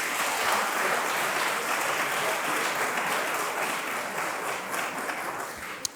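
Sustained applause from a crowd at a regional award ceremony, a dense, steady wash of many hands clapping at fairly close range, holding level for several seconds before easing slightly, with one sharp clap near the end.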